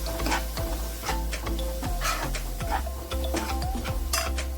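A spoon scrapes and clatters in a pan as spices are mixed into softened onion and tomato for dried shrimp karandi, with repeated knocks over a low hiss of gentle cooking and no voices.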